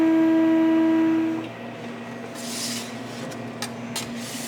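A large bakery dough mixer working a sourdough mix, with a steady machine hum and a whining tone that drops in pitch as it slows, then a quieter drone with scraping and rubbing of the dough, close by.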